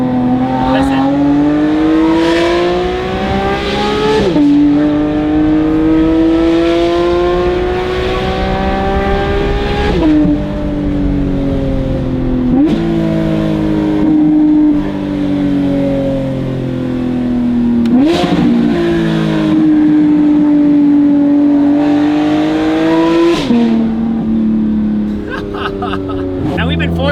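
Close, loud revving from a Porsche 992 GT3 RS flat-six fitted with a titanium race exhaust and free-flow headers. The engine sweeps upward again and again, each pull ending in a sharp blip, over about half a minute.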